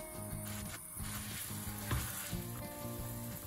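Prawns searing in hot oil in a frying pan, a steady close sizzle and crackle running throughout with a low repeating hum underneath, no voices.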